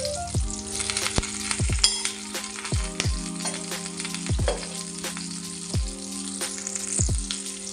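Oil sizzling steadily in a pan over stuffed green chillies, a continuous frying hiss with intermittent clicks and taps of a utensil, fairly quiet and close, no voices.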